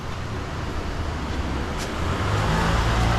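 A car moves slowly through a narrow alley in Macau, its low engine rumble steady and close, swelling slightly louder toward the end.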